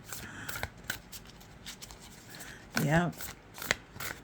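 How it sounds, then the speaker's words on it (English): Tarot cards are shuffled overhand in quick, soft riffling bursts of paper slapping and sliding, close and fairly quiet, with a brief spoken interjection partway through. "Overhand shuffle might be the better way to go"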